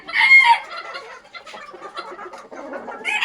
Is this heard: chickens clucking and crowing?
yes